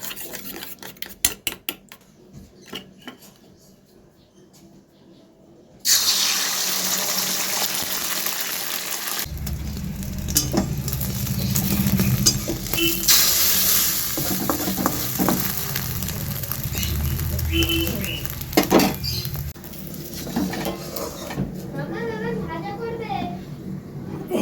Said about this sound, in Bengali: ছেলের জন্য ডিমটা ভেজে নিই